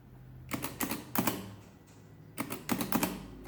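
Keys on a Comptometer Model B mechanical calculator are pressed in two quick bursts of clacking strokes, each a close, sharp mechanical clatter, with a short pause between the groups.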